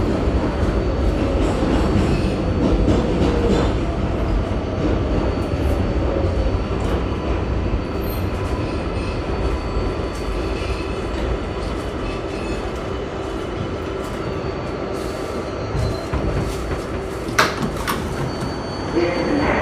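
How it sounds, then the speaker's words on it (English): Subway train on the New York City 7 local line in Queens, a loud continuous rumble of cars rolling along the track with faint high squeals and clanks, steady throughout with no pauses. "This is the next 7 local train."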